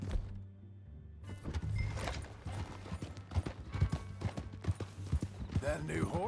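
Horse hooves clip-clop in Red Dead Redemption 2, a steady rhythm of soft hoof thuds at walking pace beneath a low hum, with a short silent gap at the start and faint game sounds around it.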